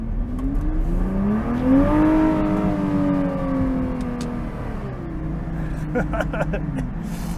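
A Nissan GT-R pulls out and accelerates, its engine note climbing smoothly through a rising rev sweep before easing off. The car is fairly close and heard alone.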